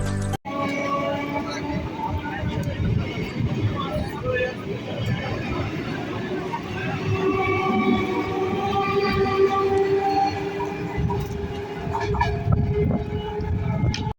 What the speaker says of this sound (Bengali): ট্রেনের সাথে সম্পর্কটা এখানে শেষ কারণ ট্রেনটা এখন চলে যাবে হাসনাবাদে